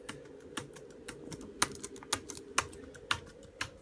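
Keys clack on a computer keyboard during a mouse-and-keyboard sharing setup between Linux and Mac, a quick irregular patter of light taps with a few sharper presses, close and fairly quiet, with no talking.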